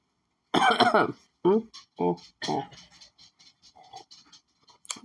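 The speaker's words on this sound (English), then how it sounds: "Let me clear my throat." A few harsh throat-clearing rasps and coughs up close, followed by softer scratchy throat noises in a quiet room.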